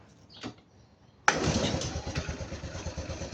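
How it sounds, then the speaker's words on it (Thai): A Honda Wave 125i motorcycle engine, its electric start not working, catches abruptly after a brief kick-start, then settles into a steady, rattling idle close by. "เดี๋ยวครูติดเครื่องนะ สตาร์ทมือใช้ไม่ได้แล้วนะครับ ต้องใช้เป็นสตาร์ทเท้าอ่ะ"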